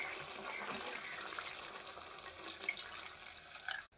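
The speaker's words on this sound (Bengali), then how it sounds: "এটার মধ্যে হালকা জল দিয়ে এটা রান্না করে নিলেই কমপ্লিট হবে।" Water pours steadily into a pumpkin and freshwater snail curry cooking in a pot for a Bengali village recipe, a continuous close splashing gush lasting about four seconds before stopping abruptly.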